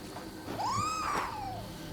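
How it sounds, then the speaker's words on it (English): A single drawn-out cat meow from a small kitty in the video game Nioh 2, clear and mid-loud over a low game background. "this is a little kitty that will come around and help build your anima gauge"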